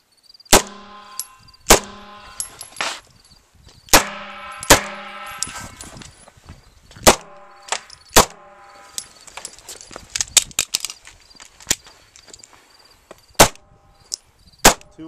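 Gunshots fired during a night shooting course of fire, sharp loud cracks in pairs and singles spread across the stretch, with quieter clatter and ringing between shots.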